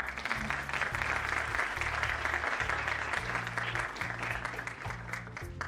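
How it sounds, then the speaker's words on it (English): An audience gives a round of applause for a guest at an event with IMA delegates: dense, steady clapping throughout, with low pulsing tones underneath and no clear talk. "a huge round of applause for our guest"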